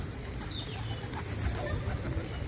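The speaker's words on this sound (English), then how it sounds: "This angry bird is fighting for food." Pigeons in Cannon Hill Park, Birmingham, scuffle over food, giving soft coos and wing flutters against a steady outdoor hum, fairly close but low in level.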